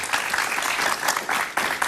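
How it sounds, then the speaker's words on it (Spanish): A studio audience on a talk show breaks into brief, dense applause that comes in close, even waves, with no talking over it. "Un aplauso para él, por favor"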